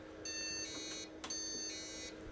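Faint, steady POST beep codes come from an IBM 5162 motherboard, with two long electronic tones separated by a short gap and a brief click in between.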